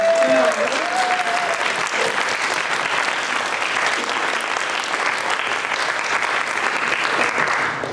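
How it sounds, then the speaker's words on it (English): Sustained applause from an audience at the Durham Savoyards 60th anniversary celebration, thick even clapping with a brief voice at the start, continuing steadily for several seconds. "I think we deserve a round of applause for our"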